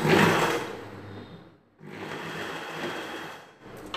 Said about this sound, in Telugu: ఇలా పై వైపు నుండి ఇలా బెల్ట్ పెట్టి కుట్టడం స్టార్ట్ చేయాలి